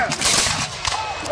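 Musket volleys crack out at an American Revolution reenactment battle on an open field, a few sharp close reports in quick succession.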